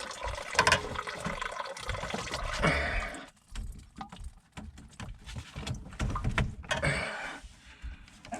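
Water runs steadily through a household pipe near a washer-dryer hookup, a continuous hiss and splash with a few brief knocks and clunks, loud at first and then softer, with no talk.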